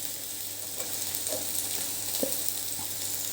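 Tomatoes sautéing in oil for a mixed-legume curry, a steady soft sizzle and crackle with a few brief stirring scrapes and pops rising above the continuous frying hiss.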